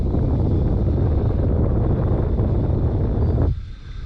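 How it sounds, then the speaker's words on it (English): Steady wind buffets the microphone on a lake during northern pike fishing, a dense, continuous roar that drops off abruptly near the end. "So all right, probably got a little bit of wind"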